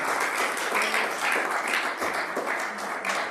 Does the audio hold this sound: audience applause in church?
yes